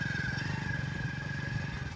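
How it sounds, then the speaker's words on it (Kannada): A motorcycle engine drones steadily and close by, a low rumbling putter with a thin whine on top, as the bike keeps moving. "ಬೈಕಲ್ಲಿ ಹೋಗ್ತಾ ಇದ್ದೀವಿ"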